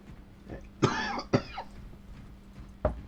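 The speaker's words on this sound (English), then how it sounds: "Apologies again for the cough." A few sharp coughs ring out close by, two in quick succession and then another after a pause, with quiet room noise between them, over Space Marine 2 gameplay.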